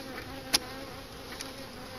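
Honey bees hum steadily at a spring brood check as the hive is opened for inspection, a faint continuous buzz with one sharp tap near the middle.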